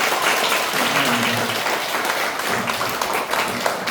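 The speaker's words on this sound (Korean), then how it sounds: "여러분 격려의 박수 다시 한번 부탁드리겠습니다" A church congregation applauds during a children's ministry dedication service, with steady, dense clapping sustained throughout and a faint low vocal murmur underneath.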